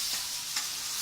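Chopped onions and tomatoes sauté in hot oil in a pan for a crab curry, giving a steady, soft sizzle with a faint stir partway through, quiet and uninterrupted by talk.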